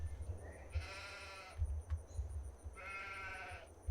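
Sheep in the Farming Simulator video game bleating twice, two wavering nasal calls separated by a short gap, over a low rumbling background and faint ticking.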